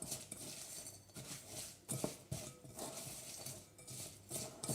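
Nest cake mixture being stirred in a bowl with a spoon, faint repeated scraping and clinking of metal against the bowl in an irregular rhythm, close and quiet.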